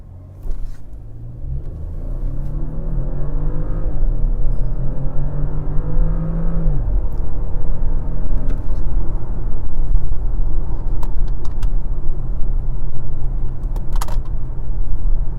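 A VW Touareg in sport mode with the AC off accelerates hard during a performance run, engine note climbing steadily through a gear, then settling into a loud, sustained road and wind rumble inside the cabin.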